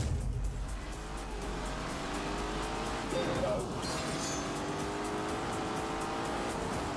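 Racing cars in The Grand Tour video game, including a Lamborghini Urus with a 4-litre V8, give a continuous engine roar and drone for the whole stretch, with a faint voice underneath.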